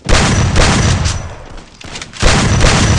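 Loud, close gunfire in a shooter video game, dense rapid bursts that dip briefly before another heavy volley, with no voices.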